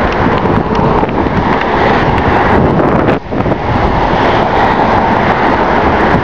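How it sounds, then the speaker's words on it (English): Strong wind blowing outdoors on a chilly day in Marshall, Michigan, roaring steadily and close to the microphone as a continuous broadband rush with only a brief lull partway through. "It'd be kind of chilly with the wind today."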